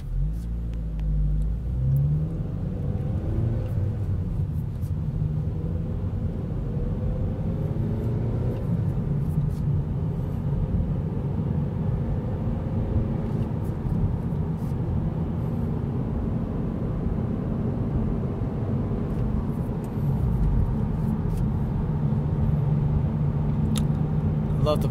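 Engine drone heard from inside a 2015 Honda Civic Si coupe with a six-speed manual, a steady mid-pitched hum with road rumble as the car drives along.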